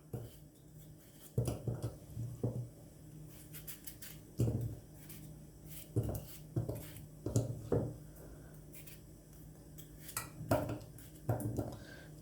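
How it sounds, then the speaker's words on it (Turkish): Repeated knife chops through potatoes on a board, irregular thuds and clicks spaced a second or so apart, close by in a quiet room. "Patatesimi doğruyorum."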